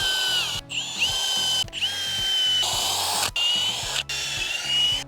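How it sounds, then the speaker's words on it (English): A power drill with a 3/8 bit bores through wooden fence posts. The motor whines loudly in repeated bursts of a second or so, dipping or stopping briefly between them, and no one speaks. "we're gonna take a 3/8 drill bit, go down to each of the posts, and drill through where all that Cameo monofilament line is"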